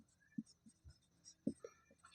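Pen strokes on paper as a Class 10 maths answer is written out: a few faint, close scratches and taps in irregular bursts, very quiet, with no talking.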